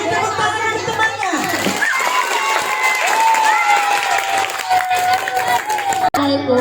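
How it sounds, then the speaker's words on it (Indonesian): Children at a school Maulid Nabi commemoration clap for a classmate, a lively burst of applause mixed with high childish voices and a tonal, sliding sound, with talk continuing through it. "Beri tepuk tangan untuk temannya."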